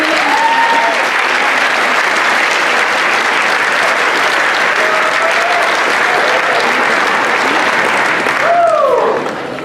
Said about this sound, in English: let's cheer as loudly as possible to congratulate our teammates, captains, and friends on a great year of athletics